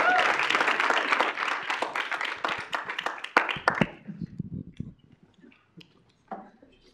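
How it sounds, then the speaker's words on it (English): Applause for new student senators at a university student meeting: a room of hands clapping steadily, then thinning to a few scattered claps and fading toward near quiet. "can we give our new senators a round of applause?"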